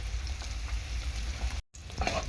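Bombay duck (lote) fish fries in a pan with a steady, close crackling sizzle that carries on alone, broken by a brief cut of silence.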